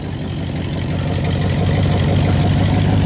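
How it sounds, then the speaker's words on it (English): An old 1978 Chevy truck engine, freed after being seized and with its exhaust clogged with dirt, idles steadily on its own with a loud, even low rumble that never lets up and a slight rise in level partway through. "this thing just is running, it's idling by itself"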